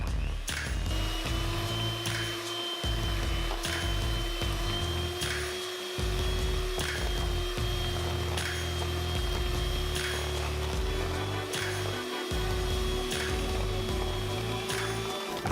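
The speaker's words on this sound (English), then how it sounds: "then you're gonna take your mixer and mix it" A Brentwood electric mixer beating chocolate cake batter, a loud steady motor whine with a rhythmic knocking as the beaters hit the bowl, briefly pausing and restarting, close by with no voice.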